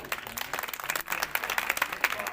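A crowd at a Constitution Day gathering in Uttar Pradesh claps in a brief, choppy burst of applause, fairly close, with a faint voice underneath.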